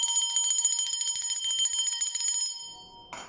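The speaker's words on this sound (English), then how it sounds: "I'm anchoring the 4 energy through this bell sound." A bell rings with a bright, sustained metallic tone, several struck notes blending over about two and a half seconds before fading, then a short separate clink near the end.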